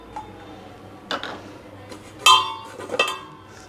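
Dishes and utensils clink softly while a bowl is greased with oil for homemade paneer pizza dough, a few sharp chinks and taps standing out at close range over a quiet kitchen background.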